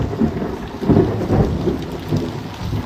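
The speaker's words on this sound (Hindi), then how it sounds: "फिर भी बारिश इतना बहुत हो रहा है यहाँ पे।" Heavy monsoon rain pours down in a dense, continuous wash, with low rumbles of thunder rolling through repeatedly and swelling in waves.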